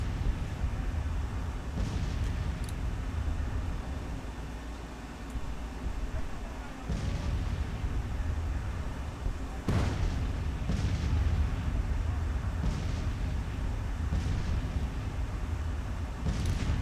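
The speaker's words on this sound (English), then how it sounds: "Who are their guns firing at?" Artillery guns firing in the Civil War strategy game Grand Tactician: scattered distant booms and sharp reports every few seconds over a continuous low battlefield rumble.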